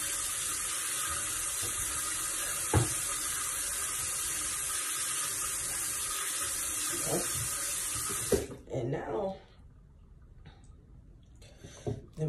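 A bathroom sink tap runs steadily while someone washes their face, a loud continuous hiss that cuts off near the end, leaving faint drips and small handling clicks.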